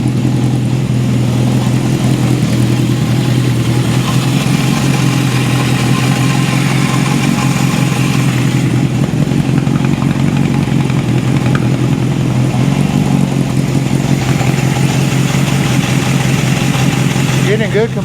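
A 1972 Honda CB750 Four motorcycle engine idles steadily and loudly up close, a continuous even rumble with a slight rise partway through, while people talk over it.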